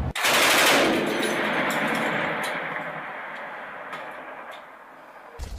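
Gunfire during heavy fighting at Donetsk airport opens with a loud close burst, then a sustained rumbling roar of battle with scattered sharp cracks that slowly fades.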